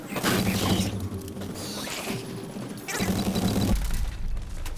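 A submachine gun in a video game fires in rapid bursts, with loud mechanical clatter and crashing impacts, a short pause in the middle and then another sustained burst.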